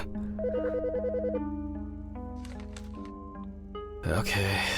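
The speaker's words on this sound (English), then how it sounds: "The fucking phone." In the video game Autopsy Simulator, a telephone gives a loud electronic ringtone trill, followed by a sharper burst of sound near the end.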